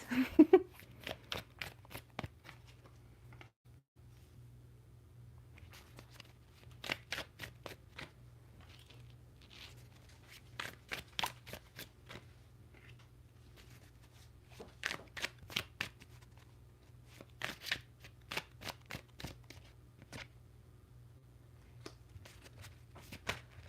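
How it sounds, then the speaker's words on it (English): Tarot cards are shuffled again and again in soft, rapid riffling bursts, separated by short pauses in a quiet room. "Maybe you guys can just settle into the shuffling of cards."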